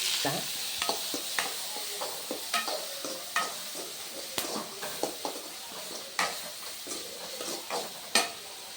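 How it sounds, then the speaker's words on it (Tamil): Onion and tomato sauté in hot oil while a spoon scrapes and clinks against the pan in repeated sharp strokes over a soft continuous sizzle, close and clear, with no talking. "தக்காளி வந்து வெங்காயமும் வந்து நல்லா பொன்னிறமாக எண்ணெயில் வதங்கிடணும்"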